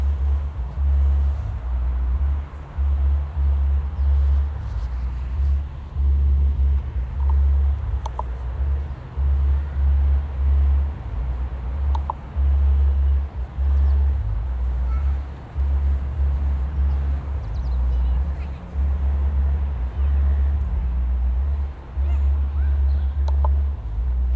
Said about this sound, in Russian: Надеюсь, звуки сабвуфера не мешают вам. Здесь машина долбит стоит.